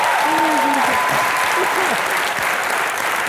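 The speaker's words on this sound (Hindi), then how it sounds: "जोरदार तालियां एक बार सुष्मिता सेन के लिए" Loud, dense studio audience applause for Sushmita Sen on a comedy talk show, a continuous roar of clapping with a voice briefly heard beneath it.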